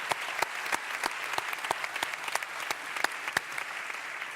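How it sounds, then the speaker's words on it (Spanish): Audience applause at a panel session, many people clapping together with distinct rhythmic claps standing out from the dense patter, moderately loud and sustained without talk. "Pues Isabel, te mereces un aplauso."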